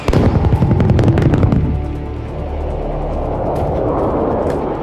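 An AC-130 Spooky gunship, a specially equipped C-130 carrying many guns, fires a loud, dense burst of rapid booming shots for about two seconds, then a lower rumbling roar lingers and rolls on without talk.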